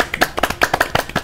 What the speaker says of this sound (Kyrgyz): Кол чабуулар.